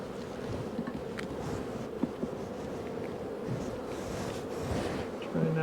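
A dense, steady hum of honey bees swarming around a laying queen in an open hive, continuous and close throughout, with faint handling noises underneath.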